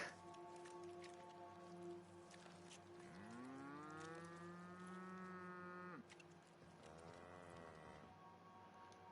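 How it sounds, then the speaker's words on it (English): Cows moo in The Outer Worlds video game, two long, drawn-out calls in succession, the first loud and sustained, the second shorter, over a steady ambient game background. "Ah, the cows are back."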